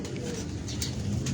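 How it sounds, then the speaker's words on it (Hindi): Pigeons coo in a rooftop loft, soft repeated throaty calls sounding close and fairly loud, with a few faint wing rustles and light background murmur. "ये जी मुकम्मल कबूतर देखिए, बहुत आला, बहुत आला।"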